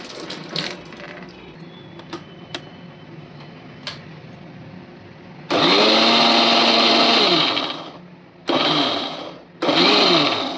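A blender whirs loudly while mixing a mango shake with milk, starting after some quiet handling clicks, running in three bursts with pitch dips as the motor labours and pauses between pulses.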